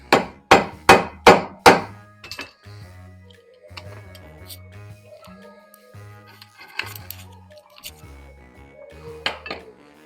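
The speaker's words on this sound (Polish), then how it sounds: "To i młoteczek." Hammer blows on a metal electric motor housing being stripped for scrap, five sharp evenly spaced strikes up close, followed by lighter clinks and taps of metal parts with low rumbling in the background.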